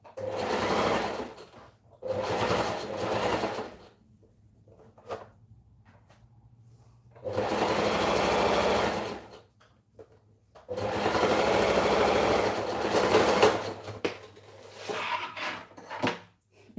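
A sewing machine stitches fabric in several bursts of steady whirring, with pauses between runs and a faint low hum in the gaps.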